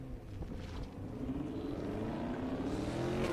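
A Hyundai Veloster in D Street class crosses the finish line at an autocross solo event in Daytona, its engine droning steadily and rising slightly as it passes at moderate distance.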